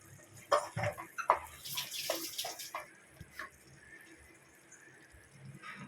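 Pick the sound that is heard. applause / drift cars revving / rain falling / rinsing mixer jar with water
rinsing mixer jar with water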